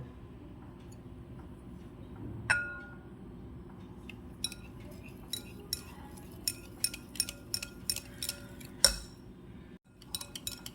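A spoon clinks against a bowl while condensed milk is stirred into whipped cream for homemade mango ice cream: sparse, sharp metallic taps that quicken into a rhythmic run of clinks in a quiet kitchen.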